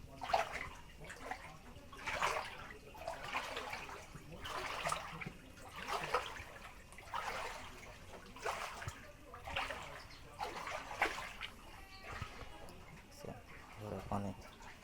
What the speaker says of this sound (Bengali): দেখছেন ঘরের মধ্যে পানি, কত পানি হয়ে গেছে ঘরে।